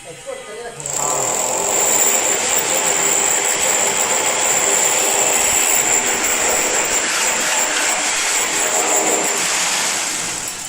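A power drill bores a hole through a plaster of paris ceiling, starting after a brief pause and then whining loudly and steadily for about ten seconds before easing off at the end.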